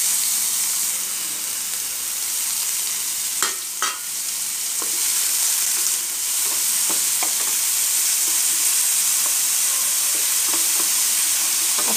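Onion, garlic and stuffed capsicum filling fry in a pan with a broad, steady sizzle and hiss, broken by a few sharp stirring clatters of a spoon against the pan, close and alone without voices.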